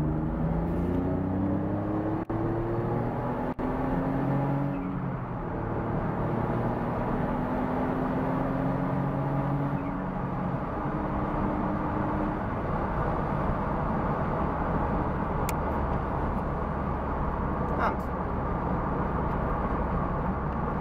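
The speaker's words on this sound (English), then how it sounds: "it's an extremely quiet car, I've got to say" Smart Brabus Roadster on the move, with a steady low engine and road drone inside a fairly quiet cabin, with faint rising whine tones and no talking.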